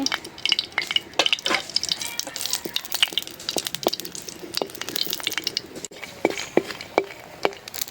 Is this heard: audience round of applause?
no